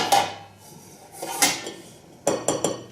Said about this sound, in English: I know this is an old pizza pan for the old microwave.